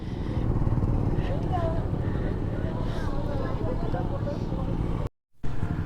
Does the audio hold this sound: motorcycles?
yes